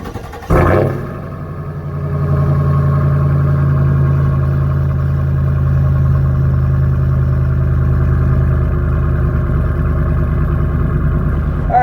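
A Legend Motor Co. Signature Series 001 4x4 engine starts with a sharp burst, then settles into a steady, close, loud idle with a deep low rumble and no speech.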